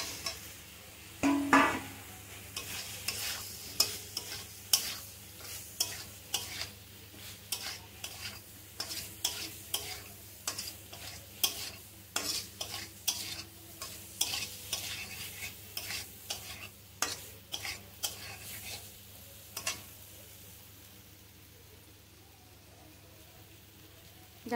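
Potato and soybean chunks fry in a pan for a curry, with a soft steady sizzle under repeated scraping stirs of a spatula that tick along unevenly before easing off near the end.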